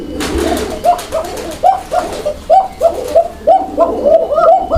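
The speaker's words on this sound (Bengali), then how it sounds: "ভাইয়ের কোকাগুলো অনেক চমৎকার ডাকে" Pigeons cooing close by in a series of repeated rolling coos with a steady rhythm, loud and clear against a low background hum.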